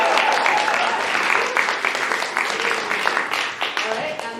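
Audience members at an improv show clap in a loud, dense round that thins toward the end, with some talking mixed in.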